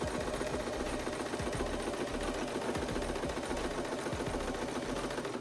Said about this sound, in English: Go ahead and sew down.